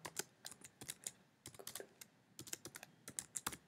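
Rapid typing on a computer keyboard while entering a database query, close and crisp, with irregular bursts of key clicks and brief pauses between them.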